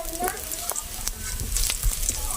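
Onion frying in a pan for vegetable cutlets gives a steady, soft sizzle with scattered crackles and brief stirring scrapes, heard close and fairly quiet without talk.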